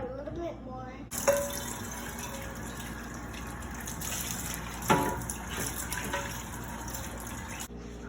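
Water pours into a cooking pot in a steady running stream, with a couple of clunks of the pot and a person talking over it.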